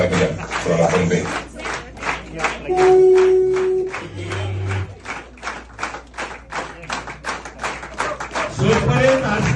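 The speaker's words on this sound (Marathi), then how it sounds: "जोरदार टाळ्या." Applause rings out at a Diwali celebration stage event in Phaltan, with sharp rhythmic claps and crowd noise over a steady musical tone and an amplified voice.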